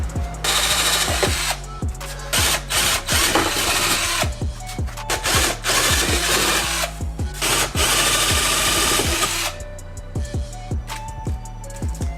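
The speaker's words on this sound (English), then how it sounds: "I just didn't know how to use a rivet gun properly" Rapid bursts of a pneumatic rivet gun firing in quick succession, loud and close, with short pauses between strings of sharp mechanical hits, while fitting a Wicker Bill on a fifth-generation Camaro 2SS.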